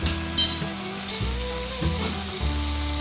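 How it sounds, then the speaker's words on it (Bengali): Cumin powder and red chili powder stirred in a hot pan for a taro-stem and dried-fish curry: a constant sizzle broken by the spoon's repeated scraping strokes and a light clink, no voices. "একটু হালকা হাতে নেড়ে নেবো"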